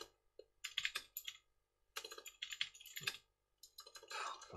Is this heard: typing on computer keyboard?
yes